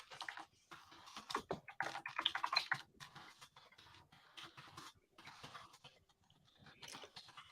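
Faint, quick clicks of fingers on a computer keyboard come in irregular bursts with short pauses, close and alone in a quiet room.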